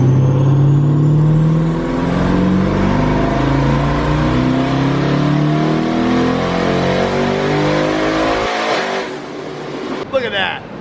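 Twin-turbo Camaro ZL1 making about 1000 horsepower on pump gas, revving hard on a dyno: a loud, sustained engine roar climbing through the gears, then cutting off near the end with a brief whoosh.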